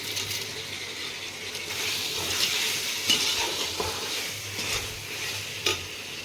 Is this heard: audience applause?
no